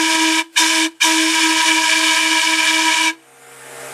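Steam whistle from a vintage Chautauqua Traction trolley car, blown in one short loud blast, a second brief one, then a long sustained shrill chord that cuts off into hissing steam.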